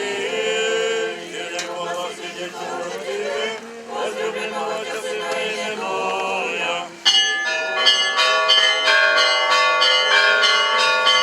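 A solemn peal of church bells rings at a Ukrainian Orthodox Epiphany water blessing in Krasnohrad, a loud, layered chime that grows brighter and denser partway through, with faint crowd murmur beneath.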